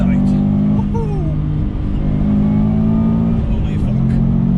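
A 2005 Subaru Impreza WRX STI Type UK widetrack accelerating hard from inside the cabin, its engine note loud and steady, with upshifts between gears and people exclaiming over the roar.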